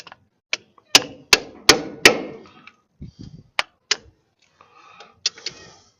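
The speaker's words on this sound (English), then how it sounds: "let's take that and hammer it down" Sharp metallic hammer blows ring out on a horse trailer's brake and wheel bearing parts, a quick run of four strikes followed by a few lighter, scattered taps.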